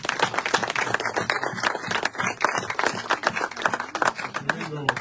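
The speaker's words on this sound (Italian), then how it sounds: "uesto momento nei confronti di Ilaria Salis, alla quale vorrei rivolgere un applauso da parte di tutti noi" Audience applause at a Palermo press conference held by Alleanza Verdi e Sinistra, a steady patter of clapping hands filling the room, with a voice speaking over it toward the end.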